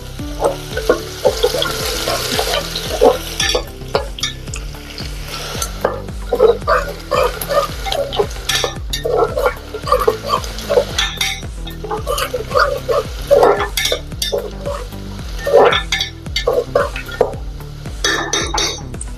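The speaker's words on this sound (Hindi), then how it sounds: "प्याज को भी हम थोड़ा देर भुनेंगे।" Steady sizzling and crackling of onions frying in a pan, with the clink and scrape of a spoon stirring throughout.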